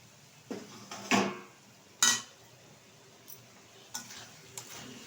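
A lid is lifted off a cooking pot of simmering water lily stems, giving a few distinct metallic clanks and clinks at close range over a quiet background, with no talking.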